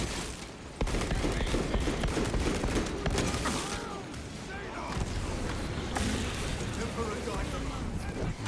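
Steady bolt carbine fire in Space Marine II: rapid repeated shots blend into a dense, loud din of battle noise, with people talking over it throughout.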